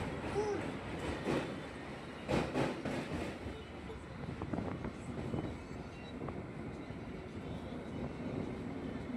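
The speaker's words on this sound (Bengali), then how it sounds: "আমাদের ট্রেন এসে পৌঁছালো নিয়ালিপুর স্টেশন" A suburban train runs between Kolkata stations on the Sealdah line, giving a continuous rolling rumble with some wind buffeting and faint clatter, close by and steady throughout.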